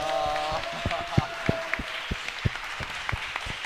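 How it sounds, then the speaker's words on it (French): An audience at a business creation forum in Aude claps, starting with a held tone and then settling into steady, fairly loud rhythmic clapping from a close crowd. "Merci pour vos applaudissements."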